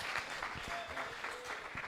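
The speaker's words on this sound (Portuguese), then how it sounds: "Você pode aplaudir o Senhor." A church congregation claps in a brisk, continuous burst of applause, moderately loud and filling the room, with faint voices underneath.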